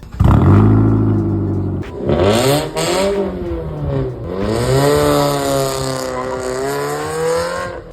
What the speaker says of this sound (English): hands down the worst sounding exhaust for the Mazda 3 in my opinion